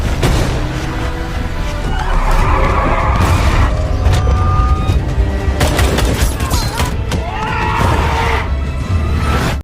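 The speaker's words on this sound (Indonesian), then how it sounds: "Mereka menghindari tembakan dari anak buah Dekom." Gunfire and a car chase in an action film: rapid volleys of shots and sharp booms over roaring engines, loud and continuous throughout, with no talking.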